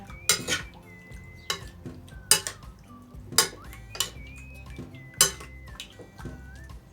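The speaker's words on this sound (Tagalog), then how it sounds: "haluin po natin para kumapit po ang lasa" Marinated chicken liver and gizzard are stirred in a pan, with a spoon scraping and clinking against the metal in about six separate strokes over a soft background sizzle.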